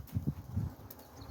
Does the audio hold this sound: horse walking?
yes